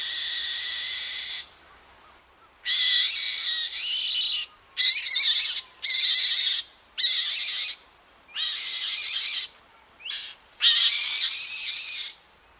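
Black-winged kite calling in Kumaon, a series of thin, high-pitched wheezy calls repeated in separate bursts of a second or so, clear against a quiet background.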